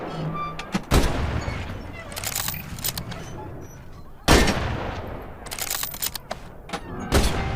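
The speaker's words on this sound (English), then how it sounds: "The K98 is a bolt-action rifle, so you reload by pulling and pushing the bolt after each shot." K98 bolt-action rifle firing in a VR shooter game, three sharp loud cracks spaced a few seconds apart, each followed by mechanical bolt clatter and small clicks in between.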